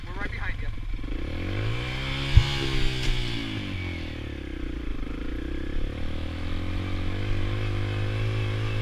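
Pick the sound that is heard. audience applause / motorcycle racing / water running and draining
motorcycle racing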